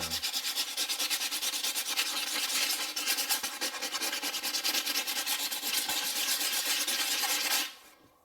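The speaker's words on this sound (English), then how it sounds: "I'm going to use this sandpaper to smooth the edges down." Sandpaper rubs back and forth along the edges of a polycarbonate lightsaber blade in fast, rhythmic, close strokes, loud and continuous, then stops abruptly just before the end.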